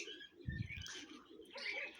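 A brief, low pigeon coo rises and fades, with faint higher chirps around it in a quiet setting.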